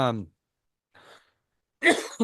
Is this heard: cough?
yes